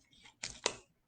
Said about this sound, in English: I'm going to go ahead and just use my scissors to be safe, and I'm going to cut